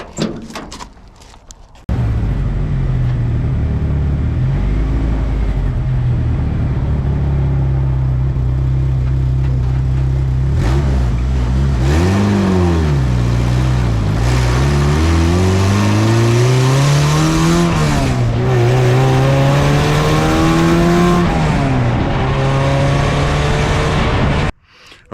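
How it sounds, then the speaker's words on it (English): A Baja car's engine revs hard as it is driven down a road, a loud continuous roar rising and falling through several throttle swells for over twenty seconds before cutting off. "I should probably run the Baja down the road one more time."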